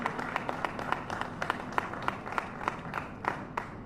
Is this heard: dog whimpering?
no